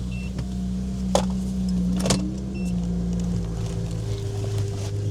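A crashed BMW 335i runs with a steady low engine drone throughout, close and fairly loud, with a couple of faint clicks over it.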